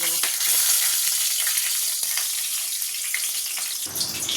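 Whole garam masala, bay leaf and dry red chilli sizzle in hot leftover fish-frying oil in a kadai, a steady close crackling hiss with brief pops, the frying continuing to the end.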